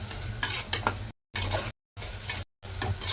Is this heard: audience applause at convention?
no